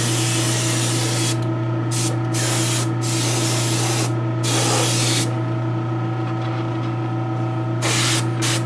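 Airbrush or spray can hissing in short bursts over a garage kit figure, a loud close spray starting and stopping several times, with a low steady compressor hum beneath.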